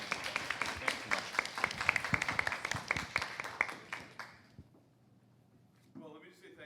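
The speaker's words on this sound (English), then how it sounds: "Can you join me with a really big round of applause" A seminar audience applauds at the end of a talk on electronic health records, with a few seconds of dense, close clapping that thins and fades out before a voice begins speaking.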